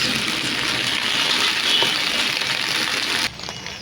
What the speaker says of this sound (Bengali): আমি ঢেঁড়সগুলো তেলের মধ্যে দিয়ে দিলাম। আমি এবার ঢেঁড়সটাকে ভেজে নেব।